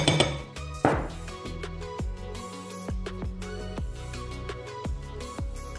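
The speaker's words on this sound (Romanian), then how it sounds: "Amestecăm bine." A spoon clinks against a mixing bowl while oat muffin batter of egg, banana, oil and raisins is stirred, with repeated bright metallic taps in an uneven rhythm, close and clear with no talk.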